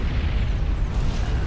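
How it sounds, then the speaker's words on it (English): Artillery shells impacting in the strategy game Supreme Commander Forged Alliance, a continuous deep rumbling roar of overlapping explosions at steady loudness for a brief moment. "The artillery shells are just coming in, and each impact, the screen shakes"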